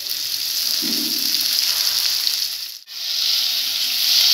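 Two chopped onions sizzle in hot ghee in a kadai for an aloo arvi masala, a steady close crackling hiss with a brief stir-like burst early on and a momentary dip near the end.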